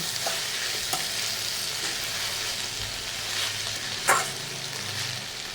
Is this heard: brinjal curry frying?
yes